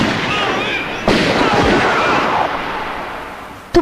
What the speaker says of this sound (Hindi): तुमने हम पर गोलियां चलाई,